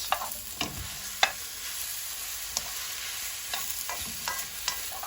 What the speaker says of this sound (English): Keep stirring and cook for 2 minutes at this point.